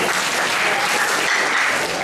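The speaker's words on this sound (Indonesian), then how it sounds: "Tepuk tangan kok." Applause from an audience at an alumni talk show and expo for a university faculty anniversary, a steady dense clatter of many hands clapping close and loud throughout, with no voices over it.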